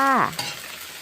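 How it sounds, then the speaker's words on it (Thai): Fresh glass noodles and shredded cabbage are stirred in a hot pan, giving a short close sizzle with a scraping stir, alone and without talk. "ผัดให้วุ้นเส้นกับกระหล่ำสุกให้เท่ากันเลยค่ะ"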